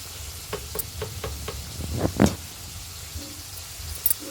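Spiced gravy with water for a paneer dish is stir-fried in a pan, giving a soft background sizzle with several spoon scrapes and taps, one louder stir in the middle.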